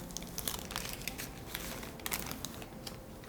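A baked génoise sponge cake sheet sliced with a knife, its bottom layer trimmed thin over paper, giving soft, close crinkling and crumbly scraping strokes, faint and continuous, with no voices.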